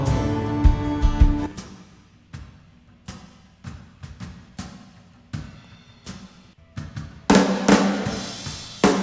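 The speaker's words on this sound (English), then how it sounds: "So that's actually a snare drum, fully mic'd. It still bleeds in the hi-hat." Fully mic'd snare drum from a church band mix playing a steady pattern of sharp hits, with hi-hat bleed adding bright ticks between strokes and a denser, brighter passage near the end; no talking.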